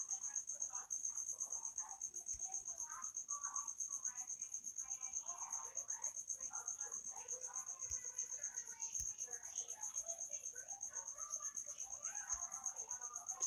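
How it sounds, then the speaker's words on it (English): A cricket chirps steadily indoors, a thin continuous high trill running throughout, faint and constant beneath soft rustling and small knocks. "There's a cricket."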